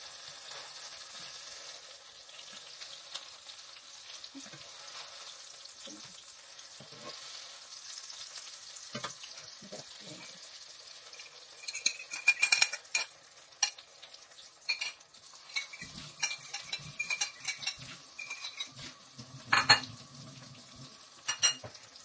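Eggplant omelette (tortang talong) frying in a pan, a soft continuous sizzle that grows busier later with utensil clinks and scraping against the pan, heard alone without speech.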